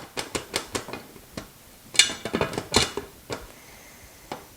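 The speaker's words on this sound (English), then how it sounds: "Go ahead and put our lid on the top." A metal lid set onto a pressure canner and locked in place, heard as a series of close, sharp metallic clinks and taps scattered unevenly, with a louder clank partway through.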